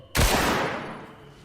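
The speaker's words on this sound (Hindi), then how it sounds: "तभी गोली चली" A single loud gunshot cracks sharply, then its echo rolls away and fades over about a second.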